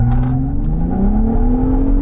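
A Ford F-150 Raptor in sport mode launches off brake torque, its engine revving loudly and close, the pitch climbing steadily through a short, unbroken burst with no talk.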